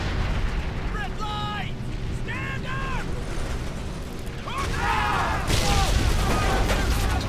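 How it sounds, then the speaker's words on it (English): In the Medal of Honor: Airborne game, a plane's engine catches fire and explodes with a heavy, rumbling roar that swells louder partway through. Wavering voice-like cries sound over the din. "looks like we have an engine fire"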